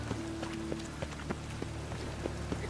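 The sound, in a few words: rain falling in video game The Witcher 3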